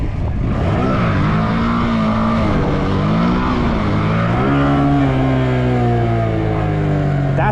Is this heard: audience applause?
no